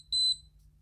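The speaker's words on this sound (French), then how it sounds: "c'est toutes les minutes qui me fait un bip" A vaporizer device for resins and concentrates emits a single short high-pitched electronic beep, clean and close, lasting a fraction of a second before quiet returns.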